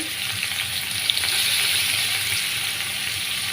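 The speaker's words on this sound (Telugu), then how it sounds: "ఇప్పుడైతే కట్ చేసి పెట్టుకున్న ఉల్లిపాయ ముక్కలు అయితే వేసుకోవాలి" Chopped onion pieces frying in a pan, a steady broadband sizzle that holds evenly for the whole stretch with a faint low rumble underneath, close and fairly loud, no voices.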